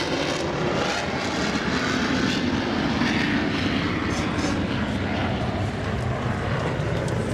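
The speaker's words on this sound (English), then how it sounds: "So here you go, the Harrier" Harrier jump jet at the 2008 Seafair air show, its engine a loud, steady, broadband roar that fills the whole stretch without letup.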